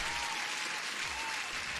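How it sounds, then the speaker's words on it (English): A short canned applause effect plays during a live futures-trading stream, a brief dense wash of clapping at low level with no talk over it. "I think you deserve an applause."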